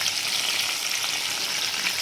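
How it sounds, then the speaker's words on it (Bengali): Freshly caught pond tilapia fries in hot oil in a pan, giving a loud, steady, close sizzle that holds evenly throughout with no talking. "মাছটা ওদিকে ভাজতে থাকুক"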